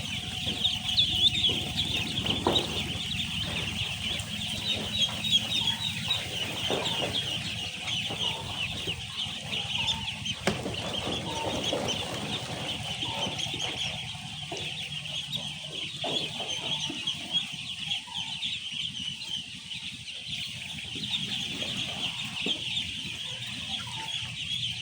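Four-day-old ducklings, about five hundred of them, on a duck farm give a dense, continuous chorus of peeping and chattering calls with fluttering movement, steady and close throughout.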